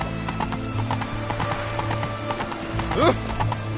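The horse Roach gallops in The Witcher 3 on PS5, with steady rhythmic hoofbeats throughout, a whinny near the end and game sounds mixed in underneath.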